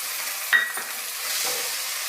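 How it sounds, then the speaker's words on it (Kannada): Finely chopped tomato goes into a pan of frying ginger garlic paste and is stirred, giving a short burst of sizzle and a scrape near the start, then a steady soft fry. "ಸಣ್ಣದಾಗಿ ಕಟ್ ಮಾಡಿರೋ ಒಂದು ಟೊಮೆಟೊ ಹಣ್ಣನ್ನು ಸೇರಿಸ್ಕೊಳ್ತಾ ಇದ್ದೀನಿ"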